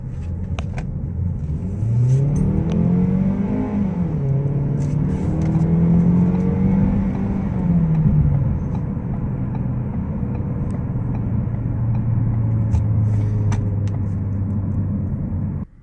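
A 2017 Ford Focus SE in sport mode accelerates hard from inside the cabin, its engine droning and rising in pitch through quick, aggressive gear shifts before settling into a steady cruising hum, loud and continuous.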